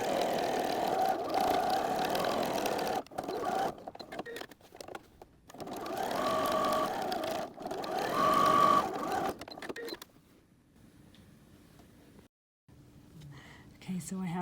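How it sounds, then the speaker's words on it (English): A sewing machine top stitches the lined pocket piece of a quilted notebook cover, running in steady whirring bursts with short pauses between them. The stitching stops near the end, leaving only quiet room noise. "I'm just going to top stitch that side"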